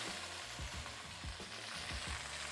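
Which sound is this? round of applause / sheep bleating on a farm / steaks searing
steaks searing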